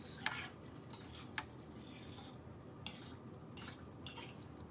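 Wimpies meat sauce is stirred in a pot with a utensil, giving faint, close scraping strokes and occasional light metallic clinks over a low, quiet background.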